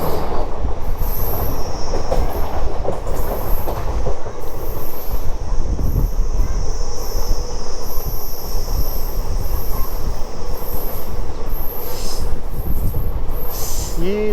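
A local train bound for Gurugram by way of Delhi rumbles past up close and loud, a steady roar of wheels on rails with high metallic squeals ringing out again and again through the run.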